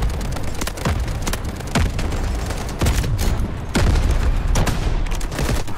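Rapid gunfire and booming blasts fill a mobile shooter video game, dense repeated shots and explosions rolling almost without pause, loud and close, with no talking.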